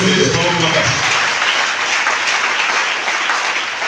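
A church congregation applauds and cheers in a joyful worship moment, a dense continuous wash of clapping and voices filling the room at steady loudness from start to finish.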